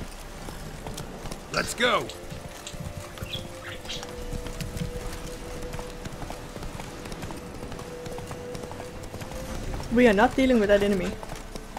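Roach the horse running in The Witcher 3 Wild Hunt, with soft hoof clip-clops beneath game ambience and a voice talking over them.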